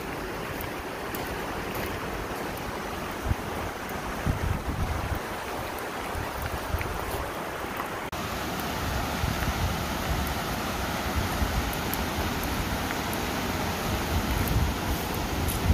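Steady wind gusts across a mountain hiking trail on the Gatlinburg loop near Sugarlands and Cataract Falls, a continuous broadband rush buffeting the microphone at moderate level with no speech.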